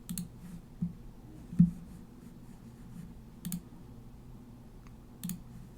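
A computer mouse clicks a few times during desktop work, producing faint, sparse, isolated sharp clicks spread across several seconds over quiet room tone, with no talking.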